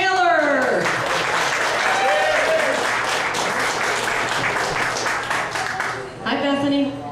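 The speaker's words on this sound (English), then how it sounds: "Next up, let's have a nice round of applause for number 5," A studio audience breaks into sustained applause and cheering for a young contestant at a talent show, loud and continuous for about six seconds, with a host's voice speaking briefly underneath near the start and end.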